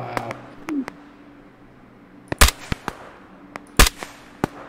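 Sharp sniper rifle shots in the war game Operation Harsh Doorstop, a few isolated loud cracks spaced a second or more apart, with fainter distant pops and small battlefield noises between them.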